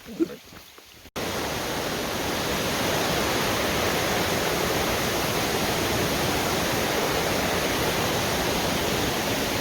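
A steady, loud rush of Forney Creek, a flowing mountain creek, fills the scene after a brief quieter moment with some talk at the start.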